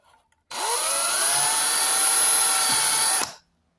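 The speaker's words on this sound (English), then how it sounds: "Just kind of drill it like that." An electric drill whirs steadily for about three seconds at close range, drilling a mister sprinkler, starting abruptly and then winding down.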